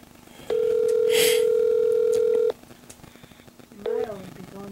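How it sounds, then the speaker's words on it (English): A telephone call rings out as one long steady tone lasting about two seconds, followed by a shorter tone, with a brief voice and faint background between. "Give Happy a call this morning."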